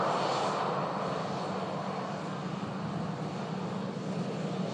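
Airbus A380 engines running steadily as the aircraft taxis at an airport, a continuous broad roar and whine that stays loud and even throughout, with no talking.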